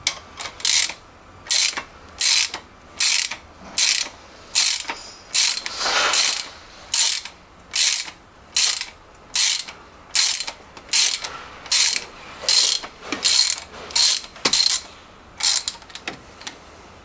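A hand ratchet loosens engine head bolts on a 1997-2001 Honda CR-V B20 during a head gasket job, giving about fourteen evenly spaced bursts of sharp, close clicking with brief pauses between strokes and no talk.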